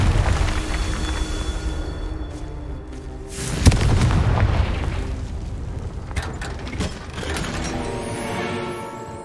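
A Confringo spell blast in Hogwarts Legacy: a sharp crack and a deep boom go off mid-way through a rumbling, clattering in-game soundscape, followed by lighter mechanical rattles and thuds, with no voices.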